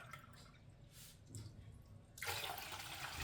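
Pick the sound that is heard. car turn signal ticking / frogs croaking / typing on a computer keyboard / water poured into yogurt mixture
water poured into yogurt mixture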